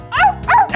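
A high-pitched voice imitates a dog, giving two short, close bark-like yips in quick succession.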